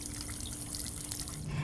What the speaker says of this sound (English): you can flush out the burner with a garden hose